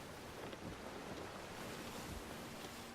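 Ocean waves in the Sea of Thieves game, a faint, steady wash of surf and wind hiss with no distinct breaks.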